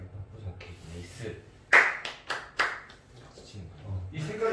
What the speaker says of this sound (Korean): 박수 치는 거.